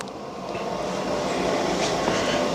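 A steady mechanical whir and rumble from a 280 CFM inline ventilation fan motor drones on without pause, a continuous motor hum with no voices.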